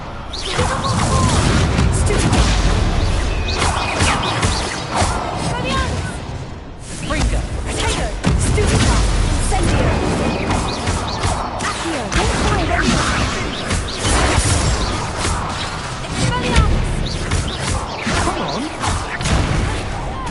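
Confringo blasting spell fired during a duel in Hogwarts Legacy, a loud, dense stream of whooshes, booms, crashes and thuds with a short break near the middle, set against steady game noise and some speech.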